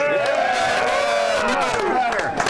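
Crowd at an Iowa Class 3A state football championship celebration for the Pella Dutch cheering and yelling steadily, dense voices close and loud, swelling throughout with no break.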